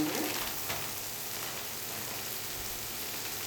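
Steady sizzling of vegetables frying in a pan for godhuma rava kichadi, a soft continuous crackle with no talking.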